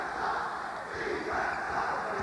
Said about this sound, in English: I think that's really poor on the Iowa crowd, chanting what they are.